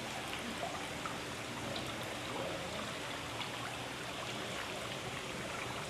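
An aquarium skimmer and return jets moving water in a large public-aquarium-grade tank, a soft steady rushing and trickling wash, faint and continuous without breaks.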